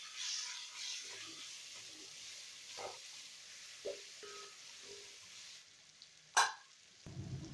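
Coriander and mint leaves for chicken biryani sauté in a pan with a faint sizzle and soft stirring and scraping sounds, punctuated by a sharper clink near the end.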